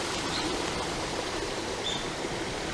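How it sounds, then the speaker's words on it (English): Running water flows beside a bamboo grove on a winter walk in Ashiya, Hyogo, Japan, a steady broadband rush throughout with faint chirps of birds over it and no talking. "You can possibly hear some running water"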